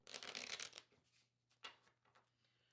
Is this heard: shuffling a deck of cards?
yes